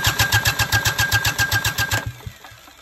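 A Lister diesel engine is cranked over to bleed the injectors, giving a loud, rhythmic chugging of about a dozen even compression pulses that stops abruptly after two seconds.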